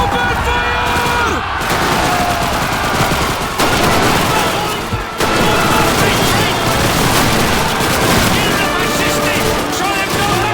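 Call of Duty 2 video game battle: dense, loud, continuous rifle and machine-gun fire crackles with heavy booms throughout. Shouting voices can be heard under the barrage.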